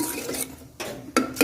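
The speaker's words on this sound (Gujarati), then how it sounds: "આ રીતના આપણે 1 થી 2 મિનિટ સુધી બધા મસાલા શેકી લઈએ।" Spices with a spoonful of water being stirred and roasted in a pan for a potato curry, with close scraping spoon strokes in short bursts against the metal.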